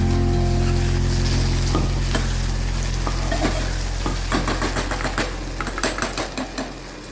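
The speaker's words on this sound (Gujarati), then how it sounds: "એડ કરીશું સ્વાદ અનુસાર મીઠું અને એને અડધો મિનિટ સુધી આમ હલાવી દઈશું" A spatula stirs Kathiyawadi-style cluster bean (guvar) and potato curry with salt in a pan, sizzling steadily while rhythmic scraping and clinks against the metal grow more frequent toward the end.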